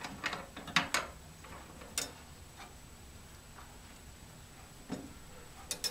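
A Mills Gooseneck slot machine mechanism is set into place after its wing nut is tightened, giving several close metallic clicks and ratcheting clacks in short irregular bursts with quiet gaps between.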